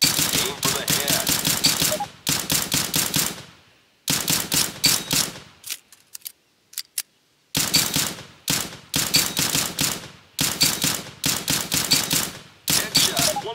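Rapid automatic gunfire in CS:GO training mode, loud bursts of shots with brief pauses between volleys, a quiet gap midway with a few scattered clicks before firing resumes.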